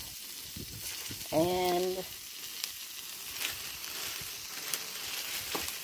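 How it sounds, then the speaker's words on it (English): Sliced onions grilling in a hot pan, a soft, steady sizzle heard up close, with a brief spoken word near the start and faint background noise. "I'm going to start off with some grilled onions"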